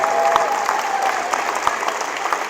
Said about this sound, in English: Let's have a big round of applause for Alyssa